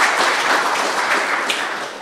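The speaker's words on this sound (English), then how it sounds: "Yeah, he wants you to clap." An audience at a tech talk claps in a steady, even wash of applause for about two seconds.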